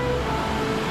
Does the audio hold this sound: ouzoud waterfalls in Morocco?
yes